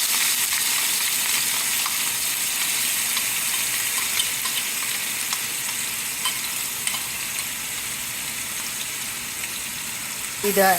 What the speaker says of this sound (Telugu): ఇది ఇలా 2 నిమిషాలు వేగించుకోవాలి. బాగా వేగల్ల.